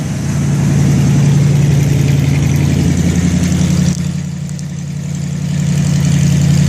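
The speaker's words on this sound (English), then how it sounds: "So the idle's on high right now." A 1980 Jeep CJ5 engine with a Holley carburetor and MagnaFlow exhaust idles high at a fast, steady pitch, with a brief dip partway through before it settles back to the same even drone.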